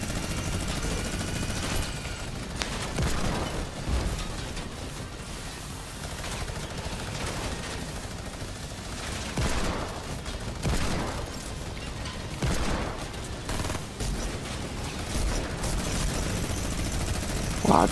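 Continuous rattling gunfire aimed at a plane in an aerial combat video game, steady dense bursts over a constant engine-like roar with no clear breaks across the stretch.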